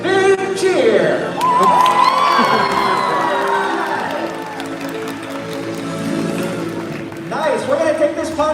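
A SeaWorld Orlando audience cheers and whoops for an orca's jump at the Orca Encounter show, a loud crowd roar swelling and fading over several seconds, with a voice over the speakers.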